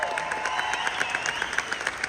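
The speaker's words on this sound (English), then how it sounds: "Give yourself a round of applause" Audience at a trading convention claps in a fast, steady, rhythmic beat for about two seconds, fairly loud, with faint background tones underneath and no talking.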